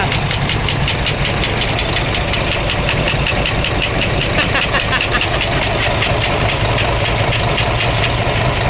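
A steady, rapid metallic clattering and knocking from an idling engine that has sucked in water, loud and close, continuous throughout.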